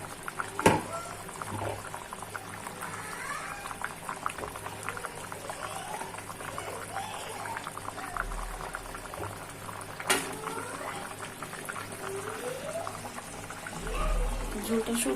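Fish curry gravy simmers and bubbles in a pan, a steady close boiling burble with soft popping throughout, plus a couple of sharp clatters and a low rumble near the end.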